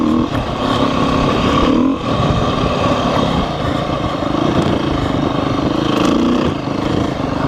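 A dirt bike engine revs steadily while riding in second gear, a loud, continuous buzzing drone with slight swells in pitch and no pauses.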